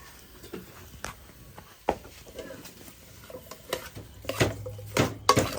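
Vegetables stir-fried in a pan before water is added: scattered clanks and scrapes of a utensil against the pan, getting busier and louder toward the end, with soft voices in the background.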